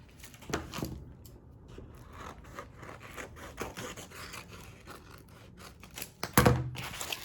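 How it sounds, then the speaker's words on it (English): Scissors snip through a piece of printable vinyl for a bow, giving a few scattered cuts and scrapes that end in one louder crunch near the finish. The sound is close and fairly quiet, with no talking. "So we're gonna cut another piece"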